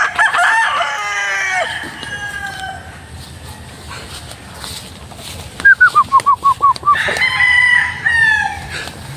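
White Kelso gamefowl roosters with straight combs crow loudly and close by, one long crow opening and another closing, with a quick run of sharp clucks between them.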